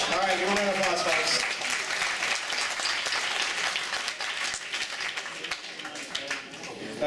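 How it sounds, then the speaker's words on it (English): An audience at a 2012 City of Heroes player summit workshop breaks into sustained applause, a dense wash of clapping that stays loud and then slowly thins out, with a voice briefly audible at the start. "give a round of applause, folks."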